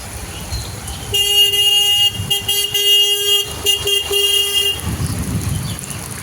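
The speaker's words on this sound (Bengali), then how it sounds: "যে টোটোগুলো যাচ্ছে, তারা যখন চালিয়ে যাচ্ছে তখন জলটা বোঝা যাচ্ছে যে কতটা জল হয়েছে" Toto e-rickshaws and other traffic move through a flooded street after heavy rain, with a long electronic horn toot that breaks into repeated short beeps over rumbling vehicle noise and water, fairly close.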